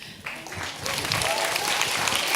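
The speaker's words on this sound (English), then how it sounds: "I'm going to take that applause for them too." An audience claps after a talk about nonhuman animal rights, the applause swelling from a few claps into steady, dense clapping that continues to the end.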